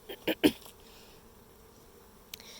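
Honey bees around a queen cage in a beginner beekeepers' hive during re-queening: a few short, loud buzzing bursts close up in the first half-second, then a faint steady hum with one brief buzz near the end.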